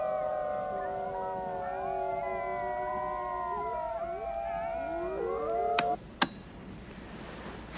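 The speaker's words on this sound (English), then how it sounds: "The alpha male, to me, has the most distinctive voice for his. Halfway through the howl, he changes an octave." Several wolves, among them the alpha male, howl together in long overlapping wavering tones that slide and shift pitch, steady and fairly close, before breaking off with a couple of sharp clicks.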